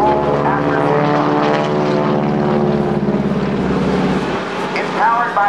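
A 600-horsepower Pratt & Whitney radial-engine aerobatic plane at a 2008 Naval Air Station Oceana airshow drones loudly and steadily throughout, its engine and propeller roar holding close with a slight surge near the end, with voices faintly mixed under it.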